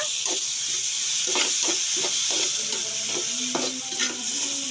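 Cumin stirred into a hot frying pan with a utensil, giving repeated scraping strokes over a continuous oily sizzle, close up and without any talking.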